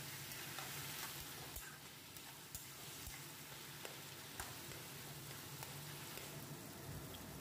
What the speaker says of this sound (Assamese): কোমোৰাখিনি দি মই গেছৰ ফ্লেমটো হাই কৰি ল'লোঁ আৰু এইখিনি লৰাই লৰাই ভাজি থাকিলোঁ।